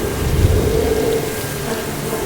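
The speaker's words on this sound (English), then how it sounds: "So we started off with a little bit of rain" Steady rushing hiss of simulated rain and wind driven by a leaf blower over a LEGO set, loud and constant with a low rumble, no voices.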